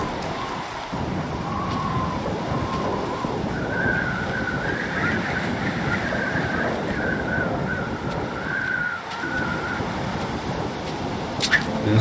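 Wind blowing in a modded Minecraft game, a constant rushing broadband roar with a faint whistling tone drifting in pitch, steady and close, with a few brief clicks.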